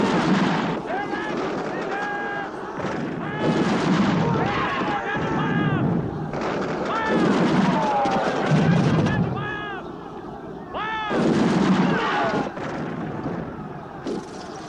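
Shouting voices over rolling bursts of gunfire and booming blasts in a battle scene from the 1979 film Zulu Dawn, with loud repeated volleys and wind-blown noise between them.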